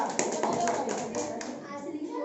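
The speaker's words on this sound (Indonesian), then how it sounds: "silakan tepuk tangan untuk kelompok 2" A short burst of classroom clapping from a group of children, brisk and fairly close, with some small voices mixed in.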